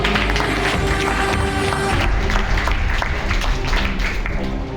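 Indoor audience applause at a talk on Indian culture, a dense wash of clapping from a crowd that runs steadily throughout at moderate loudness, with no speech over it.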